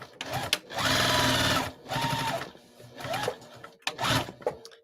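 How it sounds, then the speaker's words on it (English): A sewing machine stitches a tote bag with heavy duty thread in four bursts: one long steady run, then three shorter runs with brief quiet gaps between them. The motor whirs close and clear. "I'm going to go in just a little bit more so I can do another line of stitching."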